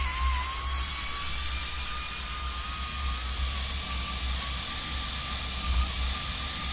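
Small aircraft engine in the Pilot Training Flight Simulator game during takeoff, a steady loud drone with a rising whine that holds for several seconds, alone without talk.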